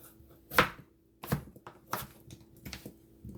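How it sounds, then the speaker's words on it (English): A knife chopping potatoes into small pieces on a cutting board, five or six close, sharp thunks at an uneven pace, the first strikes loudest, with no talking. "Cut them up a little small like I'm cutting."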